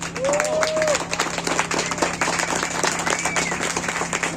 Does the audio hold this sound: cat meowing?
no